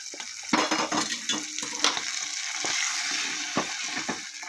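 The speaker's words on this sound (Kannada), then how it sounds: "ಅದನ್ನು ಮಿಕ್ಸ್ ಮಾಡ್ಕೊಂಡ್ಬಿಟ್ಟು ಒಂದು ಸರಿ ಕಲಿಸ್ಬಿಟ್ಟು" A spoon scrapes and clinks through rava pongal in a pot as tempering is mixed in, giving irregular close-up knocks and swishes over a soft sizzling hiss, with no talk.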